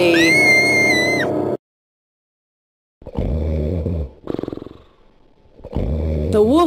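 A cartoon wolf in a Little Red Riding Hood story snores loudly in long, rasping, growly breaths separated by silent pauses, a voiced imitation of deep snoring.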